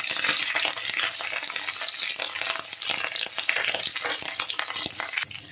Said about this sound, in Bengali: আদা আর কাঁচা লঙ্কাটা কিন্তু ভাজা ভাজা হয়ে গেছে